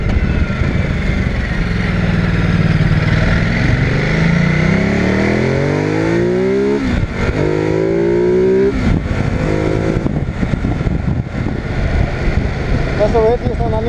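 A Ducati Multistrada 950 motorcycle engine revs loud and close, its pitch climbing and dropping through several sweeps under continuous wind and road noise.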